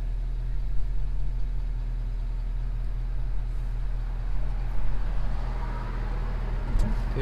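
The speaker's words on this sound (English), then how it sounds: "Yeah, car's coming." A car approaches on a slippery, snow-covered road near winter construction work, heard as a steady low engine rumble under road noise that swells slightly toward the end with a short clunk near the finish.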